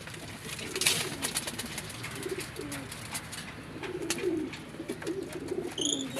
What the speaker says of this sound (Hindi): ये हैं कबूतर।